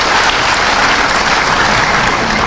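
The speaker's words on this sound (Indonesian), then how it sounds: "Tepuk tangan untuk gubernur kita." Loud, dense applause from a crowd honouring a governor at an Indonesian public event, a continuous roar of clapping that holds steady without letting up.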